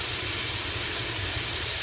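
Pork tenderloin sears in a hot crockpot insert, giving a loud, steady, close hiss and sizzle that holds without a break and has no talking over it.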